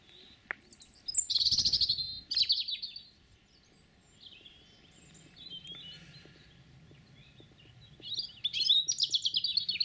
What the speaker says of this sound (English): surrounded by the delightful sound of birdsong